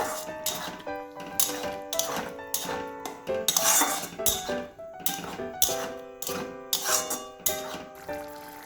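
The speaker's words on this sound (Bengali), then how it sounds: "এই মশলাগুলো এখন আমি ভালো করে কষিয়ে নেব।" A spice paste of ground green chillies is stirred and fried in a metal pan, with a spoon knocking and scraping against it in a brisk, repeated rhythm of close clatters over a low sizzle.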